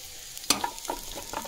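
Onion, ginger, garlic and cashews fry in a pan, a soft sizzle broken by a sharp scrape of a spatula and a few lighter stirring clinks over a short stretch.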